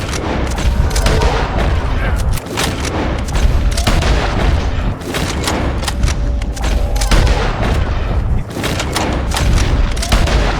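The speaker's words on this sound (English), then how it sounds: "The gunshots are coming from that" Rapid bursts of gunfire and heavy booms in the video game Red Dead Redemption 2 fill the scene, loud and close, with repeated volleys and explosive thumps following one another.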